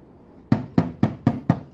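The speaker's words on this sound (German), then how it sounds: "Hier gibt es anscheinend keine Klingel. Nur einen großen Türklopfer." A large metal door knocker strikes a door six times in a steady, evenly spaced rhythm, each blow loud and close with a short ringing decay.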